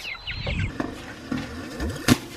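Farm chickens cluck and squawk in short bursts near the coop, with a brief flutter and a sharp peak near the end, over faint background noise.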